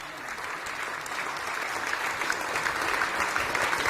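Sustained audience applause after a Hindi poetry recital by young poet Himanshu Hind at a kavi sammelan, a dense steady roar of many hands that swells slightly toward the end.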